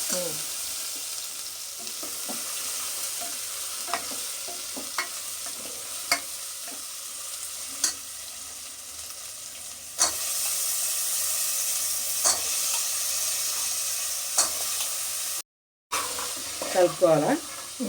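Soaked chickpeas being stirred in a frying pan, a steady sizzle with scraping strokes of a spoon recurring every second or two, close and fairly clear, with a brief burst of voice near the end.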